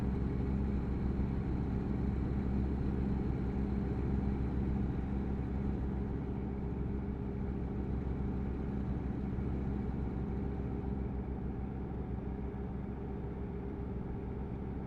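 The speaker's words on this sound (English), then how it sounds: "Can I turn down just the sound of the engine inside truck?" Steady low drone of a truck engine heard from inside the cab in American Truck Simulator, a continuous even rumble while cruising, no talking.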